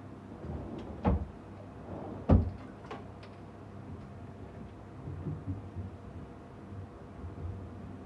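Drawers of a sliding wardrobe being pushed shut in a furniture showroom, two distinct thuds a second apart against a quiet room hum, with faint lighter knocks after.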